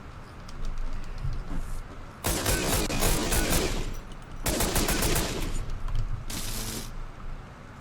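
Gunfire in a stealth video game comes in three loud sustained automatic bursts separated by short pauses, close and harsh, with faint mechanical clicks between them and no talking.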